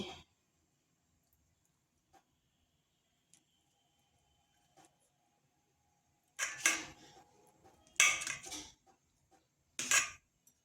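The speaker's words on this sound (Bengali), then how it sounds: "এরপর ডিমগুলোকে কেটে নিচ্ছি" A knife slices through boiled eggs, with a few faint ticks followed by three sharp, close cutting knocks against a board amid near silence.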